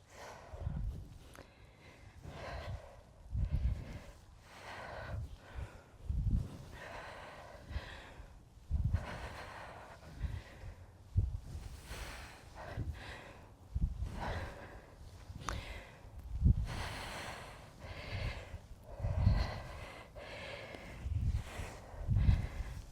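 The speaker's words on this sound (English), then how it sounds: "sorry for my heavy breathing" A runner's heavy, rhythmic breathing during a mini-band workout circuit, with repeated sharp exhales and gasps at close range across a long stretch and no talking.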